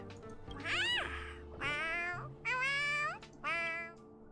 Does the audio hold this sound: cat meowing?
yes